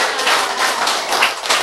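An audience at a talk about healing claps in quick rhythmic bursts, a dense patter of many hands at close range with no speech over it.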